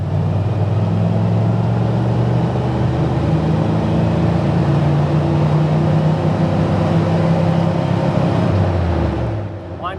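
A 1988 Chevrolet K2500 pickup with a four-speed and an aftermarket Borla dual-tip muffler drives along, its steady low engine drone and exhaust hum holding loud and close for most of the clip before easing off at the end.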